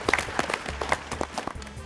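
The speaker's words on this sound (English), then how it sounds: "10 claps." An audience at a school quiz challenge semi-final claps in a short burst of separate hand claps, fairly quiet and somewhat sparse, with no talk over it.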